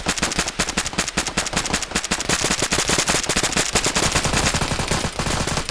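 Gunfire during a team training firefight, dense rapid bursts of shots close and loud, continuous volleys overlapping throughout.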